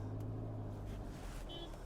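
A car engine pulls away after the clutch is released and the brake let go while reversing on a slope, a steady low hum with faint rising revs throughout, close and continuous.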